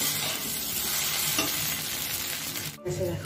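Potatoes frying in a pan with a constant loud sizzle and the scrape of stirring, broken by a brief lull before the hiss returns.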